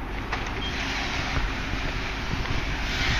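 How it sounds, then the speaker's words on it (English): Automatic car wash system running at a Chevron gas station in Texas while washing a 2008 Pontiac Grand Prix GXP, a continuous loud rushing spray with buffeting roar and occasional thuds, steady throughout. "this car wash system, it's like a Mark 7"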